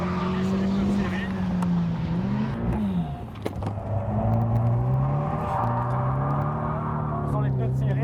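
A tuned car drifts on stock tyres that smoke, its engine droning and rising and falling in pitch as it revs through the slide, loud and close, with someone talking over it.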